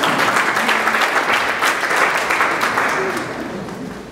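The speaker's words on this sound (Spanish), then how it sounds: "lo recibimos con un fuerte aplauso" Loud, steady applause from a crowd at an international oral storytelling event, dense clapping that fills the whole stretch and eases off slightly toward the end.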